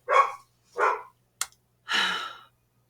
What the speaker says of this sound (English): You can probably hear them barking in the background.